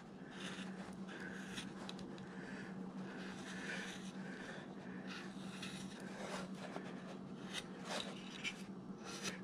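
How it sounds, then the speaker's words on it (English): Steady rasping scrape of a 3/8 number 9 gouge rounding a carved wood figure near the neck, continuous rubbing strokes close up with brief pauses, no talking. "let's take this number 9 gouge 3/8 and kind of round that a little bit in there."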